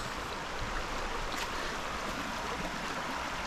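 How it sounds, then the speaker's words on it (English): Water rushes and flows steadily where a bicycle single track crosses a stream on the Tour Divide route, a continuous close broadband wash with no voices. "They got me on the single track going through water."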